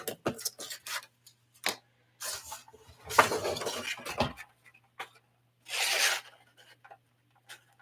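Paper being trimmed with scissors, small turtle shapes cut from a page: scattered close snips and crisp rustles, then a longer crinkling handling passage and a soft brushing swipe, quiet, with no speech.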